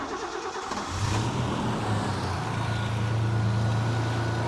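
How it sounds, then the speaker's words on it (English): A Ford Capri 280 Brooklands engine cranks and fires up in a workshop, then settles into a steady, close, loud idle with a low, even hum. "So we'll start it, make it burst into life."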